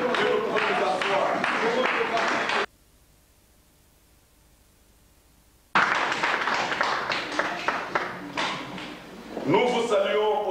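Church congregation applauding and cheering in praise of God, loud dense clapping mixed with voices, broken by a few seconds of near silence before the applause resumes.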